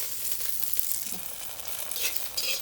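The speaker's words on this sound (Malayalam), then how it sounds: "നമ്മൾ ഒരല്പം എണ്ണ ചീനച്ചട്ടിയിലേക്ക് ഒഴിച്ചിട്ട് കടുക് വൃത്തിയിടാനായിട്ടുള്ള ഒരു ടേബിൾ സ്പൂൺ കടുക് ഉലുവ അല്പം കറിവേപ്പില ഇട്ട്" Mustard seeds, fenugreek and curry leaves sizzle in hot oil in a Kerala-style pan, a steady close crackling hiss with small pops throughout, no voices.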